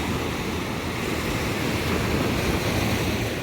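Steady, dense roar of ocean surf washing over an Oregon beach near Newport, continuous and close with wind rushing across the microphone and no voices.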